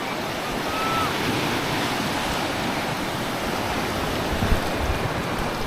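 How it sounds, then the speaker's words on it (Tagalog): Big ocean waves crash and wash onto the shore in a continuous, heavy roar, loud and close, with wind buffeting the microphone and no clear breaks between surges. "Ang lalaki ng alon."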